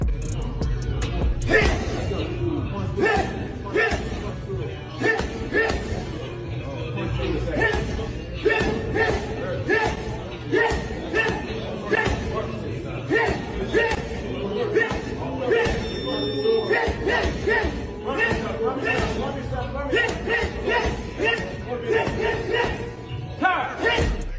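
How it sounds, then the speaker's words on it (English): Punches land on a 300-pound heavy boxing bag in a steady, rapid series of dull thuds, with a speaking voice over much of it. "that's a 300-pound boxing bag, a heavy bag, 300 pounds"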